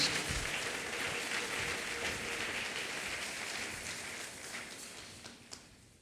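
A church congregation applauds and cheers during a sermon, a sustained wash of clapping that fades gradually over several seconds.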